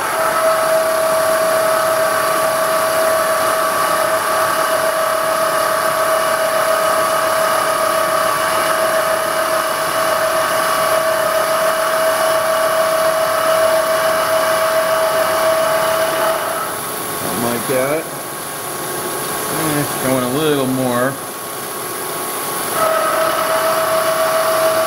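A power tool climb-cuts an etching press vertical support, holding a loud, steady motor whine with a constant tone, then dipping and shifting in pitch as the cut loads it before returning to a steady run.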